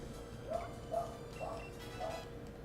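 Dogs in a neighbors' apartment barking through the walls, four faint, muffled barks spaced about half a second apart, distant and steady against a low room hum.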